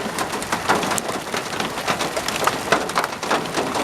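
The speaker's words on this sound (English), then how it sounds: "I'm getting hit with fucking hail." Hailstones strike a truck in a steady, dense clatter of sharp ticks and pops, close and fairly loud, with no talk over it.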